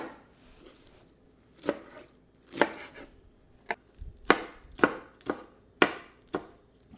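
Knife chopping iceberg lettuce on a board, about nine crisp separate cuts at an irregular pace, close and clear with no talk.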